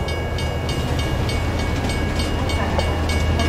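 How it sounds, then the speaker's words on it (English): A New York City Q express subway train rumbles along steadily with a low roar and faint rhythmic clicking of wheels over the rails, no voices. "This is a 57th Street, 7th Avenue bound Q Express train."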